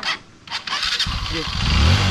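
A motorcycle engine starts and settles into a rising, rumbling idle near a coconut harvest, with someone speaking over the first part.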